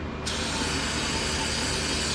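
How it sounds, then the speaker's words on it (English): A loud, steady hiss of aerosol brake cleaner sprayed onto a Chrysler Town and Country oil filter housing close by, bursting on abruptly after a moment and continuing unbroken to the end. "let's go ahead and come in here with a can of brake clean."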